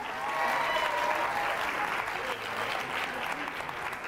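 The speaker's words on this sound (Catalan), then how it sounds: "aplaudim-los a tots" Studio audience applauding the school quiz teams on a local TV word-game show, a steady, dense burst of clapping that stays loud and even throughout without speech.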